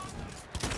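Short bursts of video game gunfire in an online squad shooter, a couple of quick, close shots packed into the final moments after a quieter stretch.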